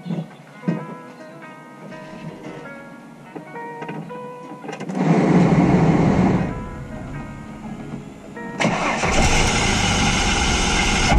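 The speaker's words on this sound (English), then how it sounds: "we're gonna start the car" A car with a failing radiator is started: a loud cranking burst that settles into a rough, steady running engine, followed by a second loud surge as it revs, close to the microphone with no talking.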